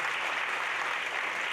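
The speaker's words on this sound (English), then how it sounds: "Let's give her a round of applause" A graduation ceremony crowd applauds the salutatorian after her address, a dense, continuous wash of many hands clapping, loud and even with no voices over it.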